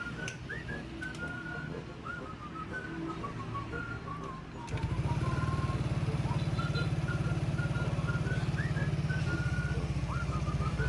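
An engine fires up midway after a wiring repair and settles into a steady, close, low idle, while birds chirp faintly in the background.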